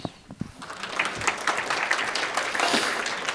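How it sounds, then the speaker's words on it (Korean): A church congregation applauds steadily for a few seconds, a dense, even patter of many hands filling the room as a missionary comes up to preach. "박수 쳐주셨는데"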